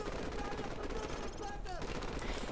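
Gunfire in the video game Call of Duty 4: Modern Warfare, a steady noisy crackle of shots running through the whole stretch, fairly loud, with a sharper burst at the very end.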